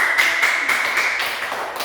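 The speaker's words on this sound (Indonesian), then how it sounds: "Tepuk tangan yang tadi kita menjawab" Children in a classroom clap their hands together, a short burst of fairly close, rhythmic group clapping with distinct repeated beats.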